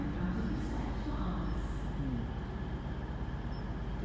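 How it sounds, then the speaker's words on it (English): Double Voyager train pulling into Exeter St Davids station on a Sunday afternoon, a steady low diesel rumble and rail noise holding evenly throughout without a clear peak. "there's another train coming in. It looks like a double Voyager."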